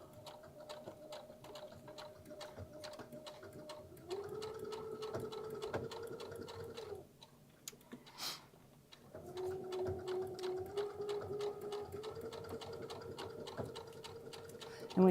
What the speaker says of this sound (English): And when you're sewing, if you kind of see that the pleats are pulling up, if you just pull back on your fabric.